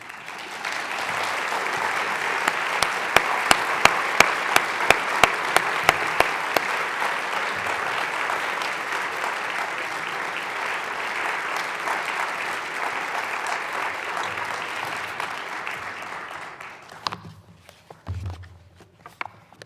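An audience at an evening poetry reading applauds to welcome poet Louise Glück, a dense, sustained burst of clapping lasting about seventeen seconds, with a few sharp nearby claps early on, before it fades into footsteps and shuffling.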